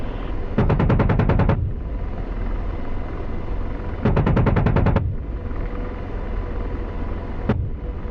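An AH-64 Apache's gun fires bursts in DCS: two rapid rattling bursts of about ten rounds each, then a single short shot, loud and close over a steady rotor drone, with no talk.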